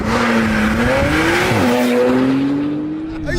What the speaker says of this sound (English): Top down, 750 brake horsepower, Porsche 911 Turbo S.